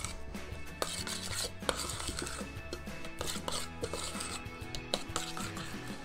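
A seasoned shrimp and mushroom filling is stirred in a bowl with a utensil, giving steady scraping, rubbing and light knocking sounds that repeat closely for several seconds, with no talk.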